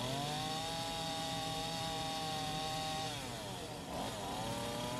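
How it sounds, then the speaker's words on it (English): Chainsaw carving a wooden bear into a stump, the saw angled to cut with the side of its chain; a steady, loud, close engine drone whose pitch sags and shifts near the end as the cut loads it, with no talk. "We're angling the saw using the side of the chain to kind of cut in that"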